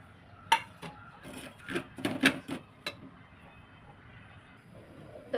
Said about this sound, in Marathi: रवा असं भाजून घेते